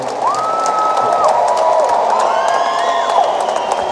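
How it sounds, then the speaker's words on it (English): An audience in Fresno cheers and applauds to welcome Clippers basketball players, a loud, sustained wash of clapping with whoops and rising shouts throughout. "give them a round of applause"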